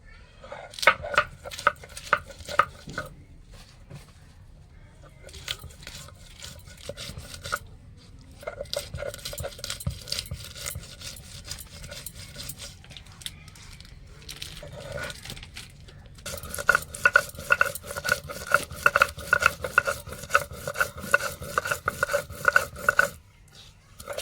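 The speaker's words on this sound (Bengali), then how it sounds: "এবার লঙ্কাগুলো বেটে নেবো" Green chillies are ground into a paste on a grinding stone with quick rhythmic scraping strokes. The strokes come in several long bursts separated by short pauses, close and gritty throughout.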